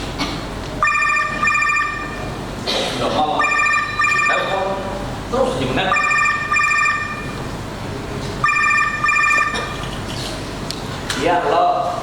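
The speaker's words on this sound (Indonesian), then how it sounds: "Sudah malam, telepon terus aja menet." A telephone rings repeatedly at night during a stage play, four clear electronic ring bursts in a steady rhythm, close and loud over background noise and some talking.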